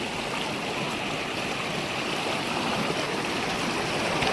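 River water rushes steadily around people wading across the middle of a river on the Vaghai trek. The broad, close flowing sound is continuous and even, with no voices.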